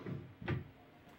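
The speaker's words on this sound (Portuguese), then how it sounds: "Gaveta tá tudo certinho, abrindo e fechando." A wardrobe drawer on telescopic slides in a newly assembled seven-door, three-drawer wardrobe gives one brief, soft sliding knock, faint and close, against quiet room tone.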